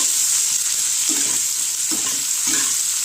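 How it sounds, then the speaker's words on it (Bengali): Onion and garlic fry in oil with a steady close sizzle, broken by three or four distinct spatula scrapes as they are stirred. No voices are heard. "পেঁয়াজ আর রসুনটা"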